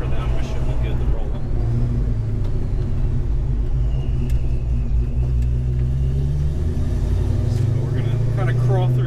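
Ford Mustang's engine gives a steady low rumble while driving slowly out of a driveway, continuous and close throughout, with a rising drone near the end.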